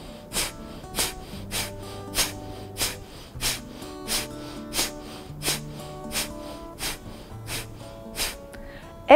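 Rapid yoga breath work: quick, forceful nasal exhalations repeat in a steady, brisk rhythm, roughly a dozen puffs, over gentle background music.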